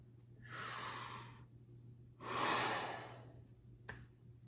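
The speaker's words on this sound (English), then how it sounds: "another deep breath" Two slow, deep breaths, a long airy inhale and then a fuller exhale. Both are close and clear over a low steady hum, with a faint click at the end and no talking.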